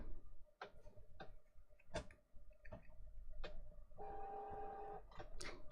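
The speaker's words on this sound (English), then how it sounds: "If you're wondering what that noise is, that is my printer going on standby." A home printer goes into standby, giving a string of sharp mechanical ticks and clicks, then a short steady electronic whir near the end, fairly quiet in a room with no talk.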